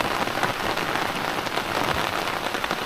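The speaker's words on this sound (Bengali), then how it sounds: "ওরে বৃষ্টি, তুই আর আসার সময় পাইলি না" Steady rain falls by a river, a dense, even patter of drops hitting surfaces, close and continuous with no talking.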